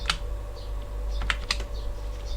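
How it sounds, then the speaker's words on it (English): Quick bursts of keystrokes tap out a command and password on a computer keyboard, close and distinct over a low steady hum. "let's just type in SU as sudo and my password"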